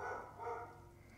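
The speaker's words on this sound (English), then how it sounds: "It's a midnight bark." A dog barks at night, heard faintly and somewhat muffled as a short bark or two that fades out, distant and quiet with no talking over it.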